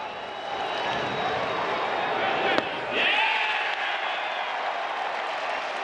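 Large baseball stadium crowd at an Angels home game during a no-hitter against the Tampa Bay Rays, a steady broad roar of cheering with a sharp crack near the middle and a brief swell just after.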